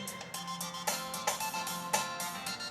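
A mobile phone ringtone plays on its own at moderate volume, a repeating melodic pattern of bright tonal bursts about every half second over a steady hum.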